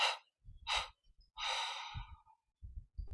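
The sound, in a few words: deep breath exhaled through the mouth in three parts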